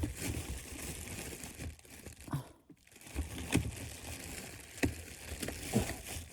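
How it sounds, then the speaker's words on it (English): A plastic bag crinkles and rustles as it is pulled over a ceiling smoke detector and fastened with a rubber band, giving faint, close, irregular crackles with a short pause midway. "I'm going to put a plastic bag over the smoke detector with a rubber band around it"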